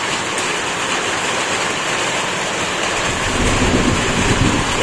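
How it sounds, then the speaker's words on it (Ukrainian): Heavy rain roars steadily during a thunderstorm, with a low rumble of thunder building beneath the constant downpour. "О, і гром, і молнія."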